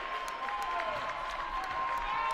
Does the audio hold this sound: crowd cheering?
yes